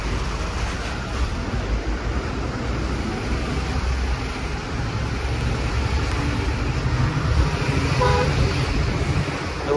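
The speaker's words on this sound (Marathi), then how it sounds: "केदारनाथ जाताना परत एकदा लँडस्लाईड झाली आहे, पूर्ण ट्रॅफिक जाम झाली आहे." Steady roadway noise from a traffic jam on the mountain road to Kedarnath after a landslide, a continuous loud rumble of slow-moving vehicles with a brief horn toot near the end.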